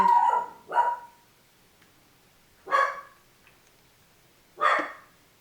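A dog barking indoors, four short sharp barks in two quick pairs separated by pauses, moderately close and alone with no talking.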